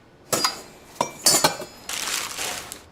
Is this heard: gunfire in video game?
no